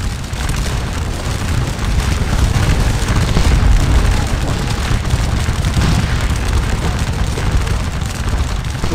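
Massed musket fire from a Napoleonic battle at a chateau in Scourge of War: Waterloo crackles in a steady, dense roar of overlapping volleys, heard at a distance and continuing without pause throughout.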